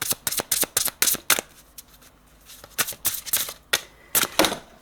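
Tarot cards riffled and shuffled in quick bursts of sharp, papery flicks, a pause, then more rapid snapping flutters as cards are drawn, close and crisp.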